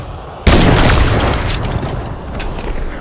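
Gunfire in a Fortnite match, a sudden loud blast that sets off a sustained, rattling burst of shots and booms, staying loud and gradually thinning out.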